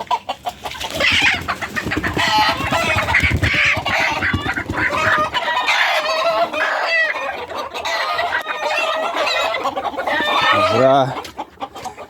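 Hens cluck and squawk busily throughout, close and loud, with a rooster-like call near the end.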